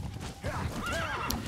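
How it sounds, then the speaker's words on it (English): Horse in the video game Metal Gear Solid V: The Phantom Pain gives a loud rising whinny over rhythmic hoofbeats, heard up close with no speech. "why are you always riding a horse?"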